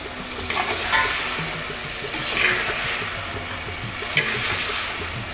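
Food being stirred in a clay pot (mitti ki handi) for a gobi gajjar achar, a steady sizzle and scrape running throughout with a few louder stirring strokes, close and without talk.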